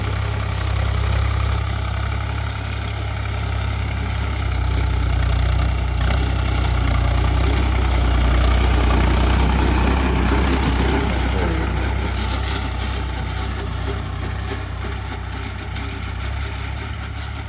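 A heavy tractor engine idles and rumbles steadily and loudly for the whole stretch, a low diesel drone with faint mechanical rattling on top.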